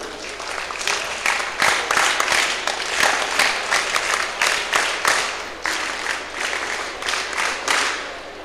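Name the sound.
audience applauding a girl's name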